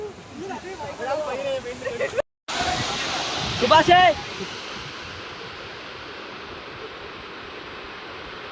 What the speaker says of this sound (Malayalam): ഇതാണ് ഗൈസ് വാട്ടർഫോൾസ്